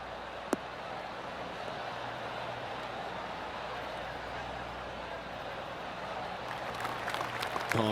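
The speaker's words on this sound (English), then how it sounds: "Oh, golf clap." Steady, polite golf applause from a distant crowd forms a continuous patter, with a brief sharp click early on and livelier clapping toward the end, in the video game PGA Tour 2K23.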